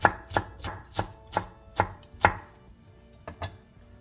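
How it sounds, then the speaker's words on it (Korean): Knife slicing two cheongyang green chili peppers diagonally on a cutting board, giving about eight crisp, evenly spaced chops, close and distinct, followed by a few quieter cuts. "청양고추 2개를 어슷썰게 해주세요"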